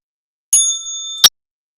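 A single bright bell rings out clearly, a sharp strike followed by a sustained ringing tone that ends with a second quick strike, loud and alone.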